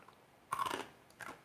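Crunchy food being bitten and chewed beside a kitchen counter, two sharp crisp crunch bursts close to the microphone, the first longer and louder, the second shorter, with quiet pauses around them.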